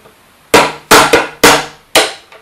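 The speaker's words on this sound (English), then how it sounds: "to get this bearing in, I'm going to try to use this 9 millimeter socket. Place that on the bearing." Bearing pressed into an NEQ6 telescope mount using a 9 mm socket, five sharp close metallic taps in an uneven rhythm, each with a short ringing decay, with no talk.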